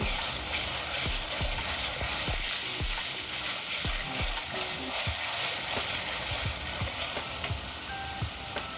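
Curry leaves crackle and sizzle in hot oil and masala, a shev bhaji gravy base where the oil has separated, steady frying hiss with sharp spitting pops scattered throughout, close and continuous, no talking.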